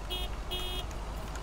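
Two short electronic car horn honks from the video game Lake, each a steady tonal blast of about a fifth of a second, sounding over a constant low background hum.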